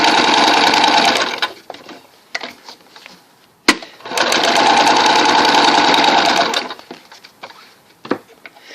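A sewing machine with a knee pedal stitching fabric: two long bursts of loud, rapid, steady mechanical stitching separated by a pause with a sharp click and light handling knocks, with no talking.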